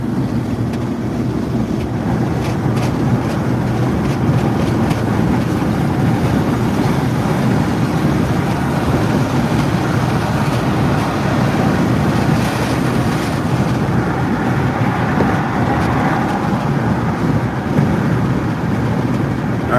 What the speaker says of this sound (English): Let's get some truck sounds